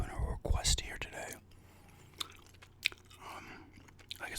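Gum being chewed close to the microphone, with soft wet smacking and biting sounds under quiet whispering, in an ASMR setting.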